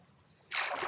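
A boat moving on water in the video game Minecraft, a brief splashing swish that rises suddenly halfway through and stays loud to the end.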